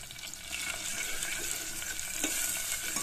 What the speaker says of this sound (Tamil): அப்படியே இந்த இஞ்சி இதெல்லாம் எண்ணெயில் அப்படியே கொஞ்சம் நேரம் பொறிட்டுங்க.